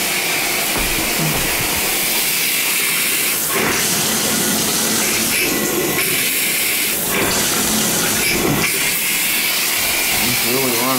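Water runs from a shower head into a bathtub as a loud, continuous rushing spray, with brief muffled voices and knocks under the steady flow.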